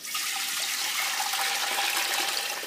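Tap water running steadily into a big stainless steel pot being filled with about three liters, a continuous close hiss and splash with no talking.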